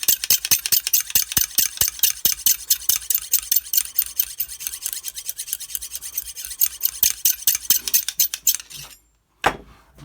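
Knife edge sharpened with a Lansky sharpening system, a rapid run of rhythmic rasping strokes of the stone along the blade, close and crisp, stopping near the end with a brief clink.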